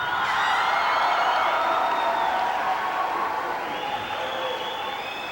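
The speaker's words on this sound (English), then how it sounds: "Gentlemen, please applaud your parents." Graduates of a 1993 high school graduation ceremony applaud their parents in a large hall, producing a dense, sustained wash of crowd clapping that fades slightly toward the end.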